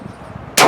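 A single sharp blast from a 1935 Tula Mosin Nagant M91/30 rifle at an outdoor range, sudden and loud after a quiet lead-in, with no one talking.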